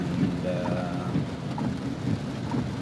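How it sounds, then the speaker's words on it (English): Heavy morning rain patters steadily outdoors, a continuous wash with scattered drops and a faint low rumble underneath. "It's super rainy."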